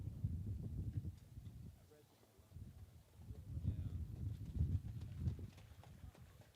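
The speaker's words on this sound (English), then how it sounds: "4-year-old bay gelding by Creatine" A bay gelding trots past pulling an open buggy at a harness horse sale, hooves clip-clopping steadily on the ground against wind noise, with a voice talking over it.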